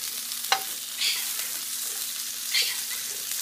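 Ahi tuna steaks fry in a hot pan, a loud, continuous close-up sizzle with a sharp tap early on and two brief surges of hissing as the fish is moved, with no talk.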